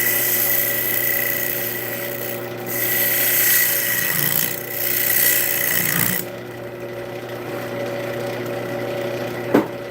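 A power tool fitted with a carbide bit grinds steadily into a workpiece, a loud, continuous abrasive whir with slight surges, then a lighter tone near the end before a sharp click.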